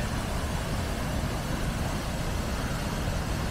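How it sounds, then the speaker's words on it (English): Wynoochie Falls, a large waterfall with a heavy flow, gives off a steady, dense roar that holds at an even level from start to finish, with no voices over it. "We found what they call Wynoochie Falls, and you can hear it in the background."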